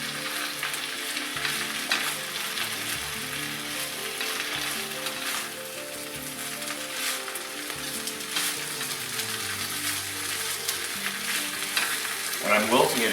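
Spinach sizzles steadily in a hot pan as it wilts, with a scrape of stirring now and then. The frying hiss is close and continuous, no voice over it, and swells briefly near the end.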